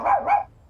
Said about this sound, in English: He would just consistently bark.